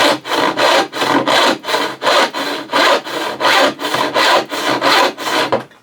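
Back saw cutting through wood, a steady run of about twelve loud, close push-pull strokes in an even rhythm, ending abruptly.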